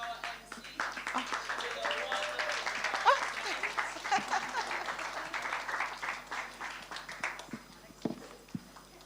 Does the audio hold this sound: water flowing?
no